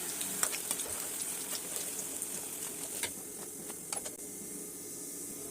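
Brinjals frying in oil in a pan give a steady close sizzle with scattered crackles and pops throughout, growing a little quieter toward the end; no one speaks.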